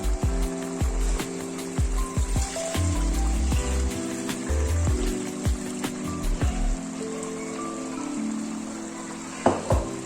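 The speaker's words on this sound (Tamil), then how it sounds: "தேங்காய் பாலையும் சேர்த்து 1க்கு 2 ஊற்றணும்." Water and coconut milk are poured into a pot for Trichy mutton dum biryani, a steady close splashing stream that runs throughout with occasional clinks and taps, and no talk.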